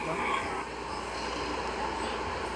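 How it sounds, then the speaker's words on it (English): Subway train in a video game rumbles steadily in the foreground, a broad continuous roar of rolling wheels and car noise with no pauses. "Let's make this train come here."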